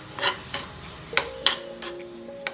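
Apples and sugar are stirred in a pan, with scattered scraping clicks and taps of a utensil against the pan over a soft sizzle, close and intermittent.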